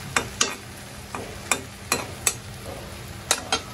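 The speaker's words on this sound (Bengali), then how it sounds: "ভেন্ডি ভাজিটা হতে থাক" Okra (bhindi) frying in a hot oiled pan, with a steady close sizzle broken by a string of sharp stirring clatters roughly every half second, no voices.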